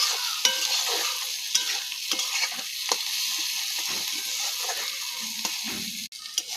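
Lentil dumplings (dal bori) and tomatoes frying in oil in a pan, steady sizzle with repeated scraping stirs of a spoon, close and alone.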